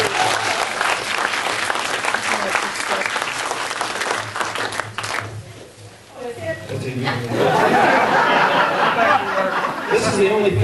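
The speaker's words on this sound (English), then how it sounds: "give her a nice round of applause" A meeting audience applauds a person called up to speak, dense clapping that dips briefly and then swells again, mixed with chuckles and chatter.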